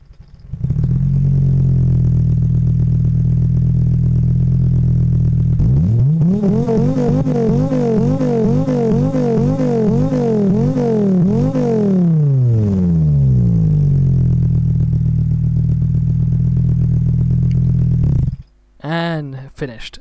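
A car engine in an engine simulator game with an addon engine installed: a steady, loud idle hum, then a series of rising and falling revs, a return to idle, and a shutdown near the end.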